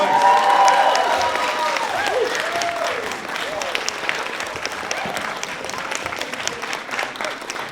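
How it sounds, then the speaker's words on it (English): An audience at a live spoken word event bursts into sustained applause with some cheering, loud at first and then tapering into steady clapping, with voices mixed in. "Can we have another big cheer for Joey, please?"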